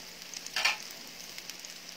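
Garlic fries in a pan with a soft, continuous sizzle and a brief, louder crackle near the start. The sound is close but fairly quiet, with no talking.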